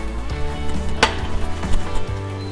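New potatoes browning in a hot pan, sizzling steadily with a bright crackle and a sharp clink of utensil against the pan midway, faint stirring scrapes throughout.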